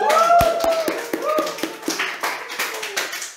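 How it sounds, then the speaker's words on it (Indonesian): A small studio audience claps for a guest on a talk show, a few scattered claps merging into light, uneven applause that trails off, with voices faintly underneath. "Tepuk tangan lagi."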